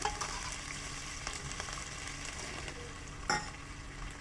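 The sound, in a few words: chickpeas added to frying spice paste and stirred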